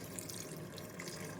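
Water is poured into a pressure cooker for rice in a home kitchen, a steady soft splashing stream like a running tap, continuous and fairly quiet throughout.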